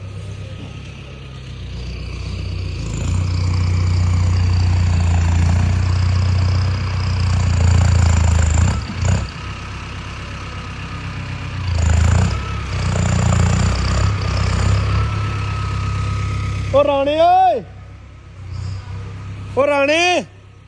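Tractors run with low, chugging engine rumble while crews raise a Beas river embankment, idling and revving under voices, with a couple of sharp whistling tones near the end.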